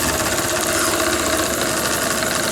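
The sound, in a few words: live steam engine of model tug Abeille 13 running slowly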